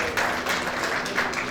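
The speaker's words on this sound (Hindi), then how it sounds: "जोरदार तालियां मिसेस सुनीता काबा जी की" An audience at an NGO welcome event applauds a medical professional and social worker: a continuous bed of clapping at moderate level, swelling slightly in spots, with no one speaking over it.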